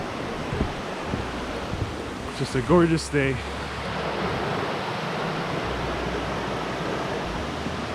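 Steady broadband rush of a mountain stream flowing beside a hiking trail in the Great Smoky Mountains on a rainy-season day, continuous and fairly close, with a person speaking briefly over it.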